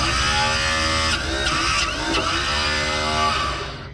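A tow truck's hydraulic motor, started through a bypassed switch, runs with a loud steady electric whir and hum, briefly shifting in pitch a few times before settling, heard up close.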